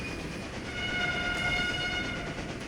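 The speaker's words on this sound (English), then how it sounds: "Man, just do not enjoy that whistle." A steam train whistle sounds steadily over the rumble and clatter of a moving train in the Railway Empire strategy game, with no voices.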